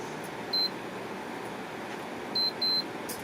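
Short electronic beeps from a multimeter continuity tester probing the heating elements of a Double K Challengair 560 dryer: one brief beep, then two more close together about two seconds later, over a quiet room hum.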